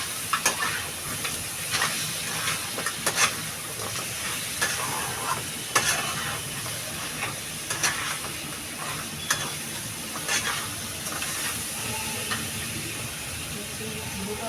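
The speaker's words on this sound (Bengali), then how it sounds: "এবার এটা আমি ভালো করে কষাবো" Chili powder is stir-fried for a crab and potato curry, crackling and hissing in the pan while a spoon or spatula scrapes in sharp, irregular strokes, close and fairly loud throughout.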